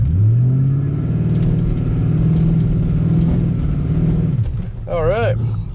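A Saleen Mustang engine holds a steady, loud rev against the trans brake on launch, a deep sustained drone for several seconds before cutting off, followed by a brief rising, wavering whine.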